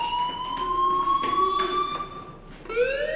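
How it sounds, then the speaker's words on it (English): A fire alarm rings in the video game Life Is Strange. It is a steady, shrill electronic tone that holds throughout and shifts upward in pitch near the end. "Hey, do you hear that fire alarm?"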